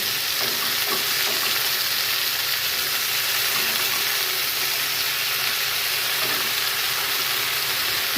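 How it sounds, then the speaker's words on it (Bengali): Taro (arbi) and potatoes fry covered in a pan, giving a loud, continuous, even sizzle with a few faint knocks and no talking. "এবার আমি এটাকে কিছুক্ষণ ঢাকা দিয়ে ভাজবো।"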